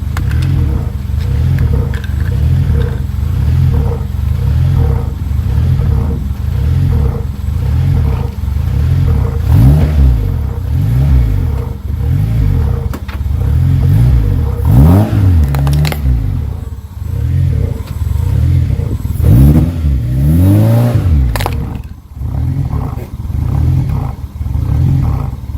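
A car engine idles roughly and unevenly, its low pulsing chug loping and stumbling with irregular surges, some clattering and scraping texture, and no voices.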